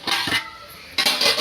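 A lid set down over a pot of chicken dum biryani gives two short metallic clinks about a second apart, close and fairly loud, with a quiet gap between them.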